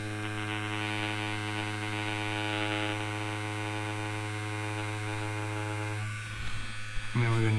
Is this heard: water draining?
no